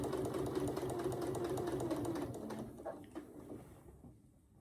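Home sewing machine running a small straight stitch through a quilt with a quarter-inch foot, a steady close rapid whirr that slows and stops toward the end, leaving a faint hum.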